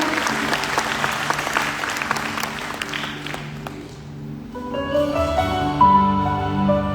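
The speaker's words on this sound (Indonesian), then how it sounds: "Kita kasih tepuk tangan buat Tuhan kita." Applause at an evening church worship gathering: a crowd claps for a few seconds, then the clapping fades into music with sustained instrumental tones.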